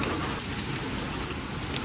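Steady rain falling outdoors beside a parked motorbike, a dense even hiss of drops on surfaces that holds throughout at moderate, fairly close level, with no voices over it.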